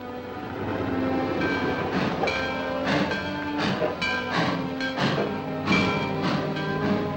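A train rolls past with rhythmic clickety-clack of wheels over rail joints, loud and steady throughout, with no voices.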